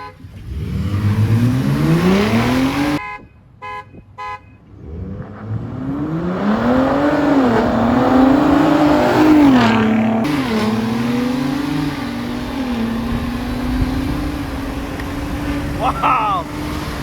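Two pickup trucks, a Ford Bronco Raptor and an F150 Raptor, drag racing: engines roar and rev hard, rising in pitch as they accelerate, fading briefly then surging again with loud, sustained revving.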